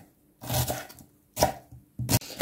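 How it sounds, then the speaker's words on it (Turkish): Three short bursts of a knife chopping onions finely on a cutting board, each a quick flurry of sharp taps separated by brief pauses. "soğanlarımızı minik minik, elimizden geldiği kadar küçük doğramaya dikkat edelim"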